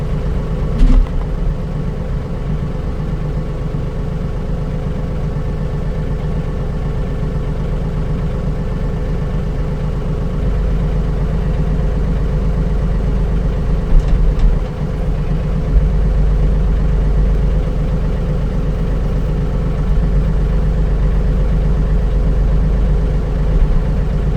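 A tractor engine idles steadily on a farm, a continuous low, even rumble holding close and fairly loud with no talk over it.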